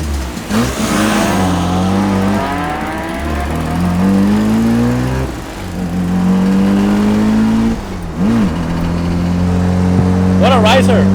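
A built first-generation Mazda RX-7 launching in a street race, its rotary engine revving hard through rising gear pulls with short dips at each shift, loud and close, while people talk excitedly over it.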